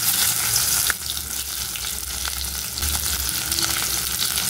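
Bitter gourd pieces fry in hot oil in a wok, a steady loud sizzle that bursts up as they hit the oil, then settles into a continuous crackling hiss with occasional pops.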